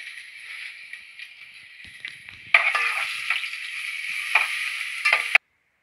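Ground ginger-garlic paste frying in a pan for veg biryani: a steady sizzle that jumps louder partway through when the paste hits the oil, with scattered stirring scrapes.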